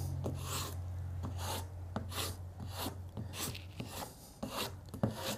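Sharp knocks of a hammer tapping on wood veneer, spaced unevenly over a few seconds, close by, with a low steady hum underneath.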